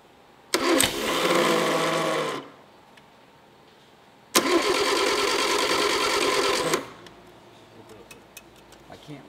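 An MG TC engine is hand-choked and cranked with the starter, giving two loud, sustained churning bursts of about two and four seconds, separated by a quiet gap, with faint ticking and rattles afterward.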